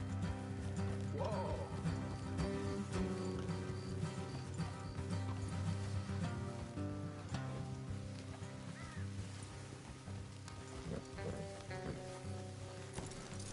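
Horse hooves clip-clop steadily at a distance, faint under a low rumbling background, with a soft whinny-like sound early on.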